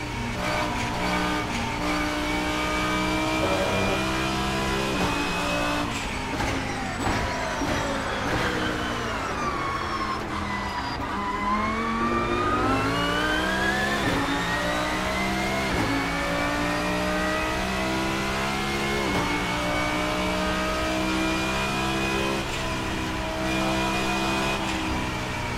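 A GT3 race car in the Assetto Corsa simulator, its engine loud and continuous, rising through the revs, dipping on shifts and braking, then climbing again.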